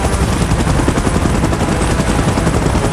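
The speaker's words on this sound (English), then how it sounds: "Chopper in position." Helicopter in the PUBG Mobile Titans Strike mode, a loud steady rotor roar mixed with rapid machine-gun-like crackle, continuous and close for the whole stretch with no talk.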